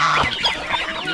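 Chickens and roosters clucking close by in a farmyard, a dense overlapping mix of short throaty clucks and calls from several birds at once, fairly loud and without speech.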